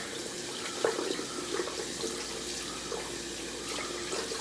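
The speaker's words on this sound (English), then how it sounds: "So we're just going to rinse out the brush here" Tap water running steadily into a sink while a shaving brush is rinsed, a soft continuous splash close by with a few small spattering bursts and no voices.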